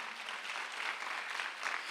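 A congregation at a Sunday worship service in Incheon claps together. The applause is faint and steady, a soft wash of many hands heard alone.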